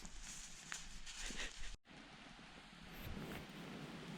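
Steady rain falling outside a truck camp in cold spring weather, a dense hiss of drops close by with a brief cut partway through, no talking.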